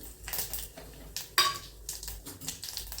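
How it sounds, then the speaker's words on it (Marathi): A spoon stirs a tempering of cumin seeds and curry leaves in a pan for an amla dish: close, irregular metal scrapes and clinks over a faint sizzle, with one sharp clink near the middle. "थोडंसं हे त्याच्यामध्ये हलवून ओतून द्यायचं"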